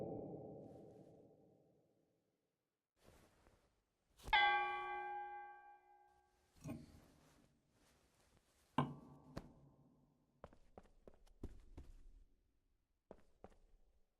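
Castle bells rung by pulling a cord in a point-and-click adventure game: a bright, ringing bell tone sounds once and decays, surrounded by quiet footsteps, thunks and soft clicks in a near-silent room.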